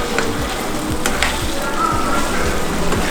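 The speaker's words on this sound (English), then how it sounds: "Then we keep frying till the oil comes up." Pepper sauce for ofada rice fries in hot oil in a pan, a steady close sizzle with soft stirring scrapes ticking through it at a regular pace.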